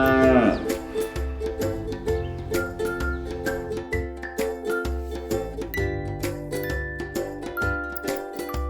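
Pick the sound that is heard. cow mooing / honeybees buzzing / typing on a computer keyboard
cow mooing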